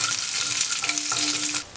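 Six or seven cashew nuts fry in oil with curry leaves, making a short, steady close sizzle with light crackles that cuts off abruptly.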